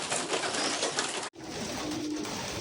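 Pigeons coo softly amid a dense wash of rustling and fluttering noise as older pigeons fly around the loft, cut by a brief silent gap partway through.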